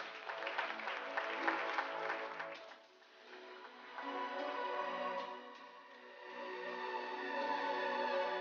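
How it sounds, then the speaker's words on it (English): Round of applause from the audience at a Rotary club president's installation, indoor clapping that swells, dips briefly and rises again over several seconds, with no talk over it. "Ladies and gentlemen, let us have a round of applause."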